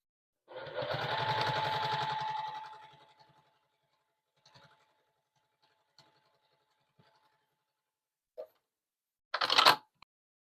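A sewing machine runs a steady burst of stitching on quilt binding for a wall hanging, close and fairly loud for about three seconds, then stops, leaving a few faint clicks and a brief rustle near the end.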